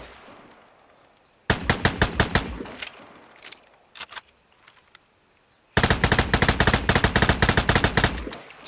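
Gunfire in the video game Vigor, tap-fired: short bursts of sharp close shots, a brief cluster, two quick pops, then a longer rapid run of shots near the end, with no speech.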